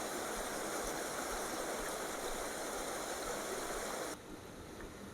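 Pressurised water rushes steadily at a watermill, where the flow drives the wheel's blades: a loud, dense, continuous roar that drops slightly in level near the end.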